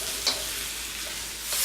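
Vegetables, including mushrooms, stir-fry over high heat in a wok, giving a steady close sizzle with brief scraping stirs.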